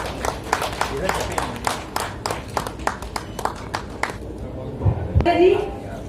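A seminar audience at the CARDIABCON 2023 national seminar gives a guest a round of steady, rhythmic applause, claps landing in regular beats for about four seconds before tapering off, followed by a brief rustle and a voice.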